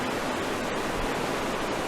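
A gaming PC's graphics card fans under heavy load give a steady, broadband whoosh with no breaks, close and fairly loud.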